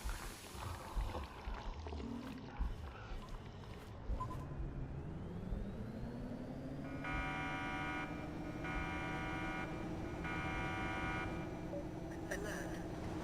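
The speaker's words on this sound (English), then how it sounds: "as soon as we grab the crystal thing that comes out of the mouth, then the alarm starts going off" An alarm sounds in a video game after a crystal is taken: a rising hum settles into a steady drone, overlaid by repeated pulsed buzzing bursts in a regular on-off rhythm, heard alone.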